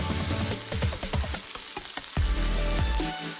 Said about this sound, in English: Let's grill a delicious steak. Add butter, add rosemary,